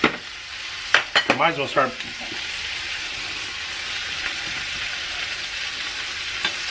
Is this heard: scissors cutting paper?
no